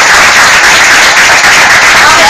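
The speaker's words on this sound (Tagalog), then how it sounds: "Salamat po sa palakpak." Dense, steady audience applause fills a seminar hall at a distributors' orientation, loud and continuous with no pauses.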